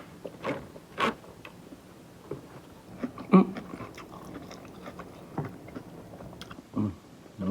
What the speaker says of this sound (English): you can never go wrong with a good old fashioned crunchy iceberg lettuce